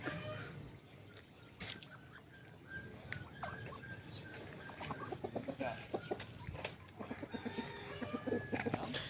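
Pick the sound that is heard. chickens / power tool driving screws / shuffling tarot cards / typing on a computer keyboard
chickens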